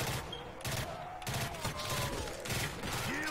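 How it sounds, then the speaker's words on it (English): Loud bursts of gunfire in World at War Zombies, short clustered volleys firing close together with scattered game sounds between them. "Is this burst fire or fully automatic? Burst. It's burst."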